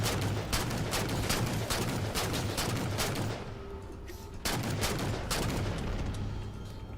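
Rapid bursts of player gunfire in Halo 4 crack out in steady repeated shots, loud and close, pausing briefly before the firing resumes.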